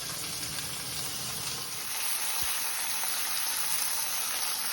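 A pork chop sears in a hot pan with a steady, close sizzle and fry hiss that holds continuous throughout, with no talking.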